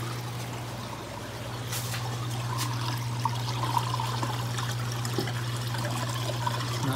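Water flows steadily at about 12,000 gallons per hour through a test setup, a constant rushing trickle with a low hum underneath, moderately faint and even with no talking.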